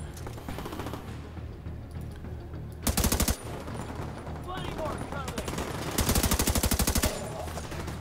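A mounted turret machine gun at the White House in Tom Clancy's The Division 2 fires two loud, rapid bursts, a short one early and a longer one later, with scattered gunfire and voices around them.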